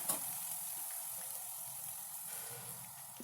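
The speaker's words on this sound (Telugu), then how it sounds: "అల్లం వెల్లుల్లి పచ్చిపోయి కొద్దిగా వేగిన తర్వాత" Ginger garlic paste frying in oil makes a soft, steady sizzle at low volume, with faint stirring, and no one speaks.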